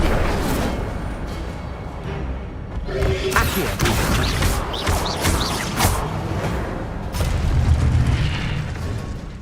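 The Incendio fire spell cast in Hogwarts Legacy lets out repeated booming bursts and pops over a dense bed of game sound effects.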